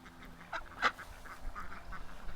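A small duck gives a couple of short, raspy quacks close by, the loudest burst near the middle, over a low steady background hum with no talking.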